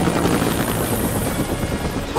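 A cartoon mini helicopter flies close by with a steady, loud whirring rotor that runs through the whole clip, and no one talks over it.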